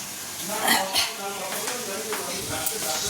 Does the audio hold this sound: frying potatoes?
yes